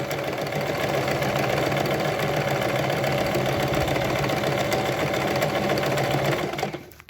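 A sewing machine stitching a buttonhole runs at a steady rapid mechanical whir with fine repeating needle clicks, close and continuous without talk, then stops abruptly at the end.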